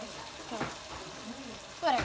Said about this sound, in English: we're gonna stir them all, and maybe the oil's gonna come up and overflow